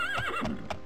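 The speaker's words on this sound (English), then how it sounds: "I wonder why the horse hasn't started neighing yet." A horse in The Elder Scrolls II: Daggerfall gives a short, wavering whinny, clear and close, alone with no voices.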